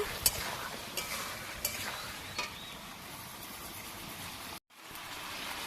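Potatoes with ground spices, chilli and ginger paste sautéed in a pan, heard as a faint, steady sizzle with a few light stirring taps and a short dropout near the end, quiet and close.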